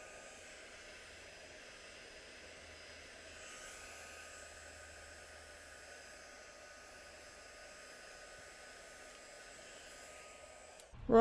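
A heat tool blows a steady, airy whoosh over plastic beads and sequins on a freeform beaded mandala to clear pen marks, constant and close throughout with a brief clatter at the end.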